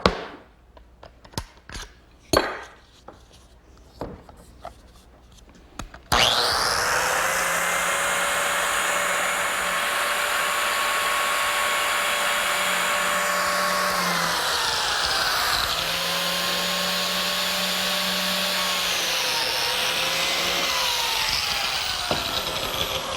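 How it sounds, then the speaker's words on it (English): A biscuit joiner cutting slots in a pine cleat: after a few light handling clicks, the motor whines up loudly and runs close and steady for a long stretch, its pitch dipping briefly twice as the blade bites into the wood. "I'm joining the cleat to the side with a biscuit."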